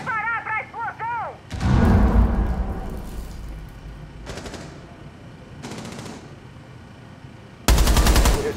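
Gunfire and a heavy explosion in Rainbow Six Siege crack out, the blast roaring loud and decaying, followed by more bursts of shots and a final loud burst.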